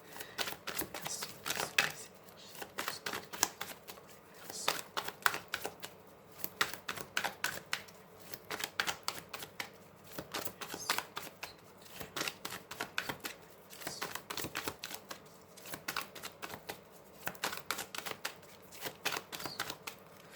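Tarot cards being shuffled by hand, repeated quick riffling bursts and soft slaps in a steady rhythm, close and fairly quiet, with no talk.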